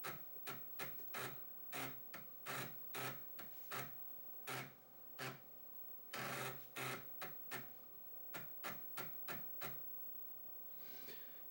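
Amiga floppy disk drive loading Workbench from a boot disk, giving a series of sharp mechanical clicks and grinding seeks in irregular bursts, close and fairly quiet.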